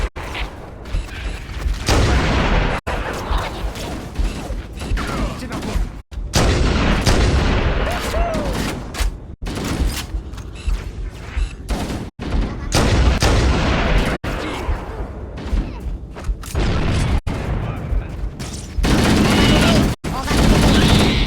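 Dense gunfire and booming cannon fire in a Halo: CE Anniversary battle, loud and continuous, with explosions and voices mixed into the chaos.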